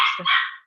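A single close, loud dog bark, one short sharp woof that rings out alone in a quiet room.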